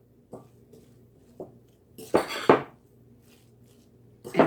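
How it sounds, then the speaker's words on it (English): Salmon patty mixture with mayonnaise being stirred together in a bowl, giving a few soft scrapes and clinks spaced out, then a louder burst of mixing and scraping near the end. "Now I'm going to go ahead and mix this all up."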